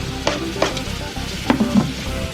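Mixed vegetables with fresh cilantro get stirred in a hot pan, a few distinct scraping and clacking strokes over a steady soft sizzle.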